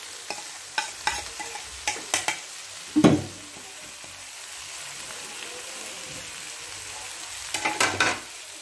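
Chinese-style fried rice being stirred in a hot pan at home, with a soft steady sizzle and spatula scrapes and clanks, one louder knock near the middle and a burst of scraping toward the end, no talking.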